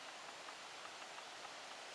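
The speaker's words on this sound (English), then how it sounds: "kind of been pissing rain all day today, on and off." Steady rain falling outdoors on a farm, a dense even hiss that stays constant and fairly faint with no breaks or voices.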